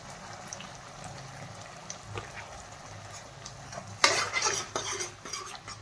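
Tomato ketchup gets stirred into veg manchurian in a pan: a low sizzle under soft scraping, then louder clattering spoon-on-pan stirring strokes toward the end.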